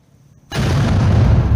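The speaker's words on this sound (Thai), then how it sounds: "นี่คือเสียงทำลายระเบิดนะ" A grenade detonated by a bomb disposal squad: a sudden, powerful explosion bursts in after a brief near-silence, followed by a loud, sustained roar of debris and rumbling.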